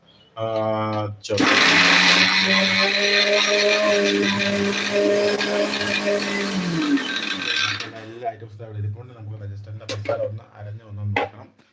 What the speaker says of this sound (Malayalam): ഇനി നമുക്ക് ഈ മിക്സിയിൽ വെച്ച് നമുക്ക് നാരച്ചെടുക്കാം